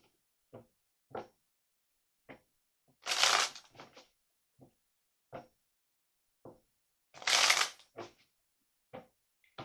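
Tarot cards handled and shuffled alone, with soft taps and flicks spaced through the clip and two louder riffling bursts as the deck is shuffled, close and fairly quiet.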